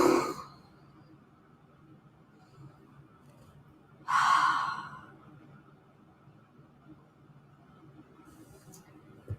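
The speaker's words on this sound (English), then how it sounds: "Maybe when you exhale," Lips fluttering during a slow exhale in a yoga session: a short breathy burst at the start, then a stronger, buzzing exhale midway, both close and over a quiet background.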